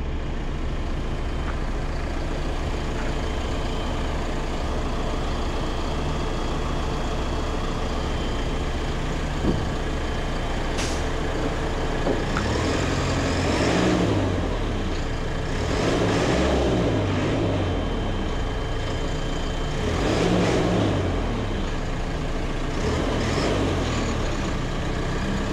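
A telehandler's diesel engine drones steadily nearby, then revs in several rising surges as the machine strains to drive forward, with a few clanks and thumps between the revs.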